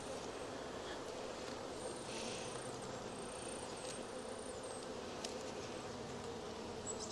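Honeybees buzzing steadily around an open hive during a late-season colony check, a dense, continuous insect hum close by with occasional louder passes of individual bees near the ear.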